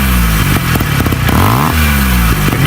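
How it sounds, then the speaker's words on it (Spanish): Engine of a 1973 DKW W2000 motorcycle with a Wankel rotary engine, loud and close, revving up and down in smooth sweeps with some mechanical clatter underneath, no voices. "Número 6, DKW 2000 motor Wankel, la moto que parecía un Mazda RX-7 con manillar."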